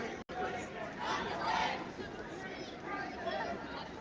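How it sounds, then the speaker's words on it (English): Large protest crowd gathered at Grand Parade in Cork for a cost of living campaign march, a steady dense murmur of many voices and chatter with occasional louder swells, continuous throughout at close range. "It's such a big crowd, which is great to see."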